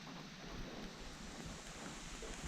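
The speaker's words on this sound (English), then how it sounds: "It's raining." Rain falls steadily on the Appalachian Trail in a cloudy mountain setting, giving a soft, continuous hiss with low wind rumble, faint and even throughout.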